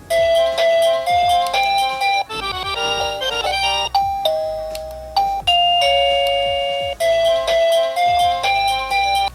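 An XTU video doorbell chime cycles through its ringtones, loud melodic ding-dong tones and tunes following one another in quick succession, close and clear with no talking.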